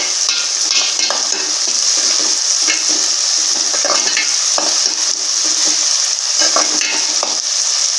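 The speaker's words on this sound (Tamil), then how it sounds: "தக்காளி பழம் போட்டதே தெரியக்கூடாது, அந்த அளவுக்கு நல்லா குழஞ்சி வதங்கி வரணும்" Tomato and onions sauté in hot oil for a Tamil mutton ennai kari, giving a steady, close sizzle with scattered scrapes and stirring clatter running throughout.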